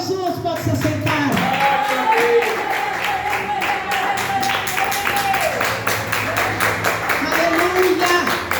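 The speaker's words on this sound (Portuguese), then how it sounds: "Aplauda Jesus." A church congregation claps in rhythm at a worship service, with steady, brisk applause running throughout under voices and singing.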